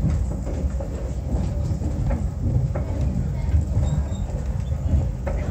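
A SAM Shortline excursion train rolls on rails between Cordele and Americus, Georgia, giving a steady, close low rumble of wheels and carriage with faint clicks and squeaks, continuous throughout, with a little background voice.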